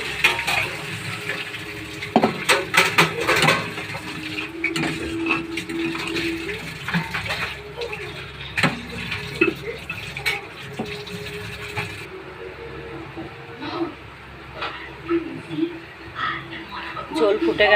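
Water is poured into a pan of curry frying in oil, giving a gushing splash and sizzle with clinking stirring around it, while a voice talks throughout.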